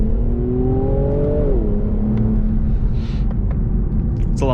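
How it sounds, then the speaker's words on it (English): A 2018 Infiniti Q60 Red Sport 400 with a 400-horsepower engine accelerates hard in second gear. Its loud, close engine note climbs in pitch, briefly drops, then holds as a steady drone. "Do second gear again"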